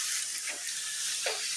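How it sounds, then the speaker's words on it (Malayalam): Onions sautéing in a pan for a dried prawn theeyal, a steady close sizzle with a couple of brief stirring scrapes. "ശരിക്കങ്ങ് ഉള്ളി നല്ലപോലെ വഴന്നിട്ടുണ്ട്."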